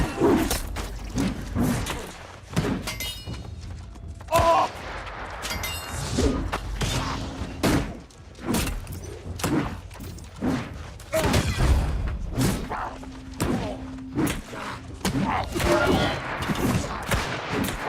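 Rapid gunfire from shield-carrying enemies in the online game New World crackles in repeated bursts and thuds over roughly eighteen seconds, mixed with other game effects and clanks, with no voice over it.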